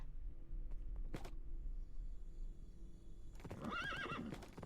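A horse in a Minecraft Bedrock map gives a single loud whinny with a wavering, descending call, preceded by a faint click and steady low background noise.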